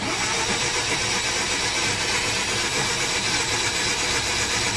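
A flooded Mazda RX-8 rotary engine cranks continuously with the fuel pump fuse pulled and the throttle held flat, a steady, loud starter drone that never catches.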